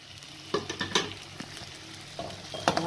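A spoon scrapes and clacks around a frying pan as cumin, garam masala, red chilli, turmeric and salt are stirred into matar paneer, with a soft sizzle and several quick knocks against the pan.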